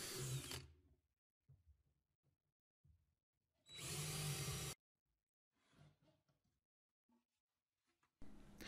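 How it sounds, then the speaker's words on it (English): Power drill pre-drilling holes in wood for a workshop clamp rack: two loud bursts of whirring, each about a second long, separated by quiet handling and clatter, with a third burst starting at the end. "We will pre-drill some holes so that the person in the back knows where they're going to be"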